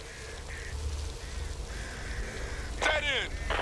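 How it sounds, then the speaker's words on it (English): Bird cries in Back 4 Blood, a harsh duck-like quacking and honking that repeats several times over a low ambient rumble, rising to a louder burst near the end, with a voice briefly heard in the background. "So many birds."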